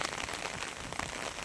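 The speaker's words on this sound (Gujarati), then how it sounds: "આ વરસાદ ચાલુ છે" Steady rain pours over farm fields in Khambha taluka, Amreli district, Gujarat, an unseasonal downpour heard as a dense, even hiss of drops close by, with no voices.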